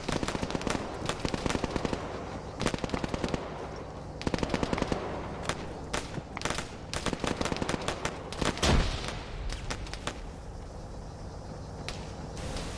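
Sustained machine gun fire in the Arma 3 military shooter, dense rapid bursts repeating throughout with brief pauses between volleys, a heavier boom near the middle, loud and close.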